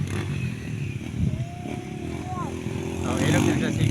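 A motorcycle engine whines and revs through rising and falling pitch during a race's last lap, over crowd noise and a loud commentator voice, building at the end.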